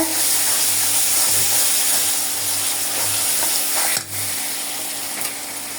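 Garlic paste frying in a pan with a loud, continuous sizzle and periodic stirring strokes close by, a brief clack near the end, no voices.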